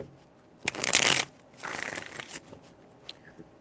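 Tarot cards being shuffled by hand in two quick bursts, a loud riffle followed by a softer, longer shuffle and a few faint card taps near the end, with no talking.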